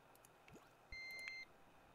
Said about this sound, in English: What beeped and why?